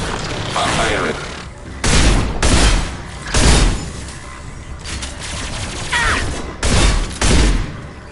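Weapon fire in a science-fiction video game, several loud booming bursts in uneven bursts of two or three with mechanical clatter and rumble between them, close and punchy, with faint voices in the background.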